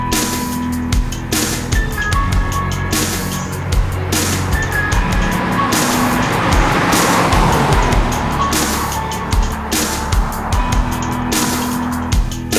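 Audi A1 1.4 TSI S-tronic Ambition hatchback driving, engine and road noise carrying steadily with occasional tire sounds, overlaid by music with rhythmic beats throughout.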